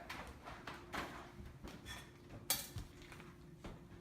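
Someone takes a cooking pan out for making pasta, with quiet metallic clinks, clatters and scrapes of cookware being handled at close range.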